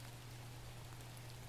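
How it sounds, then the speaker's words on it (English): Heavy rain falls outdoors in very wet weather, a steady, even hiss of many drops with no breaks, recorded close, with a low constant hum underneath. "It's raining a lot."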